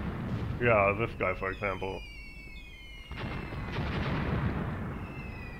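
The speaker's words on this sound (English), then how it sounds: "They are exactly hit by my pre-planned artillery here" Artillery shells striking in Graviteam Tactics on the Kharkov 1942 front, a rumbling barrage of distant impacts that swells toward the end, heard under someone talking and a brief high whistling tone.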